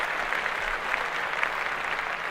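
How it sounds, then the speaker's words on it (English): Steady applause from an audience, a dense continuous patter of clapping held at an even level throughout with no speech over it. "Oh, clap that up."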